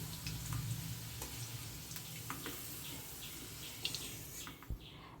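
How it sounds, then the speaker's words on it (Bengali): Hot oil crackles and sizzles steadily, with a few sharp clicks and pops as whole spices, cumin and cardamom, drop into the pan for tempering. "এখন এই তেলের মধ্যে আমি ফোড়ন দেব"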